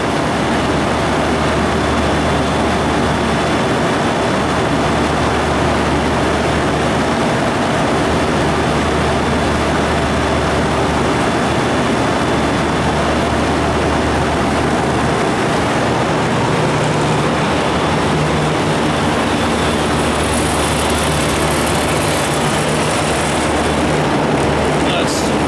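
A 2010 Temptek 10-ton air-cooled R410A chiller runs with a loud, steady fan roar as warm air is pushed upward, a low pulsing hum underneath and a faint high whine late on.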